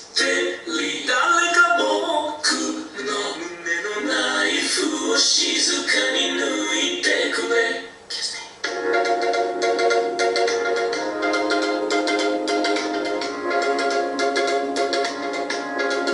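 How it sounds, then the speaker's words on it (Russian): Video soundtrack played through the built-in speaker of an Epson EB-S31 projector: tinny, thin music and sound with no low bass, first busy and varied, then a steadier tonal passage after a brief dip, heard close. "Это вот звук со встроенного динамика данного проектора."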